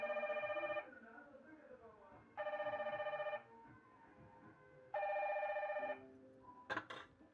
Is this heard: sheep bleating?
no